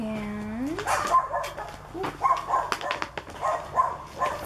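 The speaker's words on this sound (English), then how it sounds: "excuse my dog barking" A pet dog barks and yips repeatedly in short bursts nearby, starting with a rising whine, while a person speaks briefly in a quiet indoor room.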